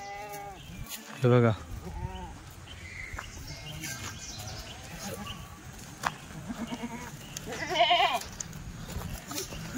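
Kathiawadi goats bleat in a pen, with two sharp, loud calls near the start and another pair later. Softer animal sounds and a voice fill the background.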